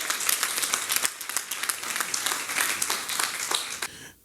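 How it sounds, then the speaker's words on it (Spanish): Church congregation applauding during a Sunday morning service, a dense burst of clapping that carries steadily for about four seconds before cutting off abruptly. "Dele un aplauso"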